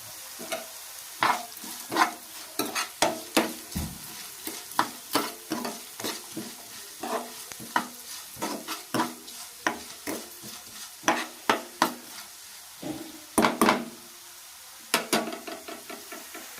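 Onions and crushed green chillies sauté in a pan with rock salt for prawn thokku, a soft sizzle broken by a run of sharp, irregular spatula scrapes and knocks against the pan, close and clear with no talk.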